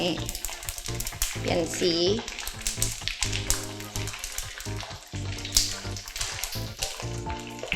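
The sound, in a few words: pork skin frying in oil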